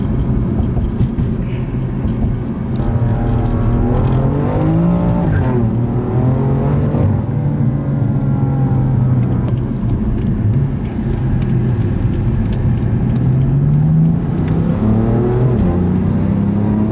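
A BMW M3 engine drones steadily while driving, heard from inside the car, with a low rumbling note that rises and falls as the revs shift through gears. It stays loud and continuous, with no talking.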